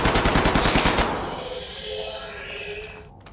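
A rapid burst of automatic gunfire in the game Hidden Deep, loud and close for about a second, then fading into a ringing echo and low rumble.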